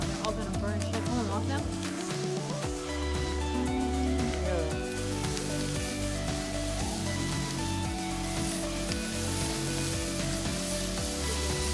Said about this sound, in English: Our skewers are catching on fire